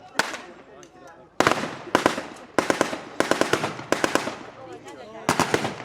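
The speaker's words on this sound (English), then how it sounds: "machine gun there. That's a 30 caliber." A .30 caliber machine gun firing blanks at a battle re-enactment at Ramsbottom station, loud sharp bursts of rapid reports repeating in quick clusters, with someone talking in between.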